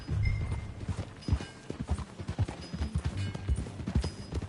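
Horse hooves clip-clop in Red Dead Redemption 2, a close, steady rhythm of distinct hoof strikes over a low ambient bed, with no talk over them.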